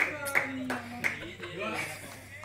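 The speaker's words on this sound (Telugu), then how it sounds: "సూపర్ జెస్సీ, బాగా ఆడుతున్నాను అని క్లాప్స్ కొడుతున్నాను" A few sharp hand claps ring out at the start and around the one-second mark, close and distinct, mixed with nearby talking and a voice.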